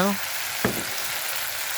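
Tortang talong, an eggplant omelette, fries in a pan with a steady hiss. One brief clatter cuts in and a faint voice starts near the beginning.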